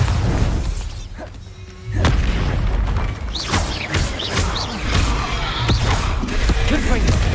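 Bombarda spell blasts in Hogwarts Legacy: loud bursts and booming impacts follow one another over a cluttered mix of spell effects, with a brief quieter gap early on.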